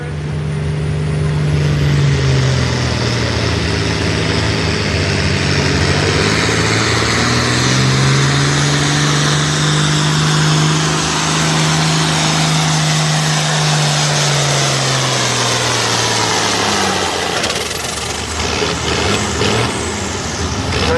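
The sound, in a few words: tractor engine revving at a tractor pull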